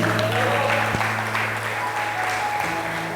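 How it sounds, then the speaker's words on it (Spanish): A church congregation applauds for the Lord, a dense wash of clapping in a reverberant hall with a steady low hum beneath and a single sharp thump near the start. "Bríndele un fuerte el aplauso al Señor."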